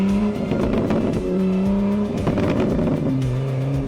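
A car's engine revs hard on the road with a loud, sustained roar that rises and falls in pitch as it accelerates past other traffic, with a brief tire squeal.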